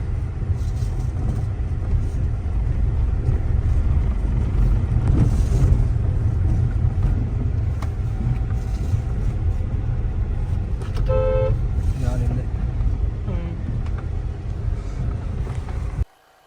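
A 2014 Opel Astra diesel car engine runs steadily for the whole stretch, a close, even low rumble with brief higher tonal chirps around the middle before it cuts off at the end.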